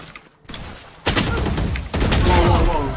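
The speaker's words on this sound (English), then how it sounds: "as he's shooting Vincent, he fucking legs me" Bursts of gunfire in Valorant during a round, a sudden flurry of shots followed by more firing and game effects, fairly loud and continuous after a brief quiet start.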